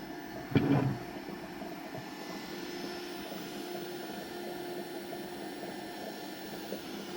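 An Orbitalum Orbimat 165 CA orbital welder power source runs a function test, giving a steady mechanical hum and whir with a brief louder burst near the start, then an even drone throughout.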